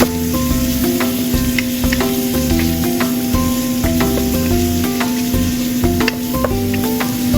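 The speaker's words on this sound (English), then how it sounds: "add the shrimp and stir-fry together." Steady, loud sizzling of shrimp stir-frying in a wok, with occasional clinks and scrapes of stirring throughout.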